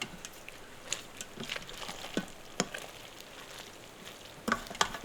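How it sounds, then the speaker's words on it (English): Ranch dressing and cheddar cheese are stirred into a freezer meal mixture in a bowl, making faint, irregular scrapes and soft wet clicks in an otherwise quiet room. "And we will give it a mix."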